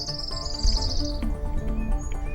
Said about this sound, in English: you can just hear the massive birds that are in there